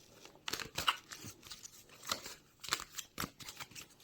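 Tarot cards being shuffled by hand, a quiet series of irregular papery riffles and soft slaps spread over a few seconds, close and faint, with no talking.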